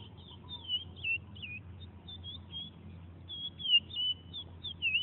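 A curió songbird sings in a field, its clear, warbling phrases repeating close and fairly loud over a low steady hum, with short pauses between bursts.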